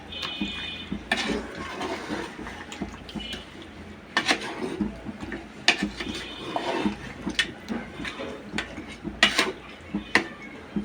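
Beef and potatoes stirred together in a pot for a Bengali beef curry cooked on a clay stove, with repeated close scraping and clanking of a utensil against the pot over a busy background hiss.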